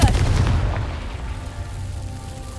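Fiery Confringo spell blasts from the game Hogwarts Legacy: a loud close boom at the start that rumbles and fades into a decaying low roar, with no voices.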